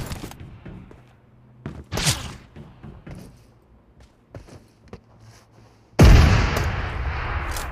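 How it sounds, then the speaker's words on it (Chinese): Cannon fire in a mobile game match, a sudden loud boom near the end that rolls into a sustained roar, after scattered thumps and small impacts. "怎么还有拿炮轰的？"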